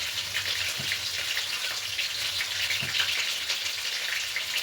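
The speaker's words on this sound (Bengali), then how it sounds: "সবজিগুলো হালকা করে ভেজে নিচ্ছি দেখুন।" Vegetables for Bengali shukto frying lightly in oil in a pan give a steady, close hiss of sizzling, with a couple of soft knocks from stirring and no voices.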